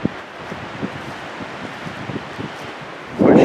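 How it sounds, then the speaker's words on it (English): Gusty wind blows outdoors during a wind storm, rustling and buffeting near the microphone in uneven bursts, swelling into a loud blast at the end. "You can really hear how windy it is out here."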